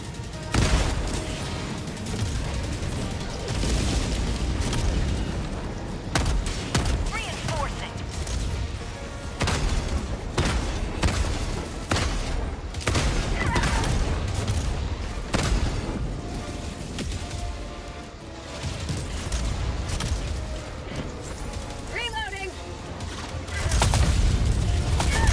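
Gunfire and explosions from the video game Helldivers 2, in an automaton mission: dense bursts of shots and booms roll on for the whole stretch, loud and layered, with a player's voice talking over the din at times.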